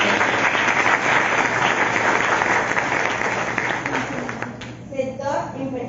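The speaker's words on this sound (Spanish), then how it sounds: "También un aplauso y sea cordialmente bienvenida." Dense audience applause welcoming a speaker at a law panel event, a broad continuous wash of clapping that tapers off near the end as a voice begins speaking.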